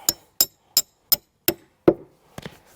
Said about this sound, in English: So if I hammer that in now,